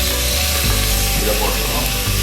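Ginger garlic paste with tomato and green chili fries in a pan for tomato rice, giving a constant loud sizzle with stirring scrapes up close.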